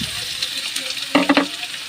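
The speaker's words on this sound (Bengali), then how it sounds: "দেখতেই পাচ্ছ পেঁয়াজটা আমি লাল করছি" Chopped onions frying in oil with cloves, cardamom and whole spices for a beef tahari, a steady soft sizzle with a short burst of stirring scrapes near the end.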